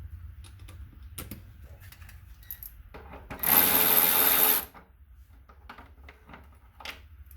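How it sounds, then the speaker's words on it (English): A ratchet or small power driver spins steadily for about a second while a 5 mm fender bolt comes off a Kawasaki Concours 14, set among quiet workshop clicks and handling noises. "So we're going to do this 5mm here. Let's go ahead and get it on our ratchet."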